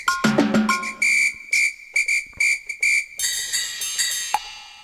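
A Yamaha PSS-A50 mini synth plays its built-in drum kit sounds: a quick run of short, bright percussive hits, then whistle-like and cowbell-like tones triggered one after another, clear and close with brief gaps.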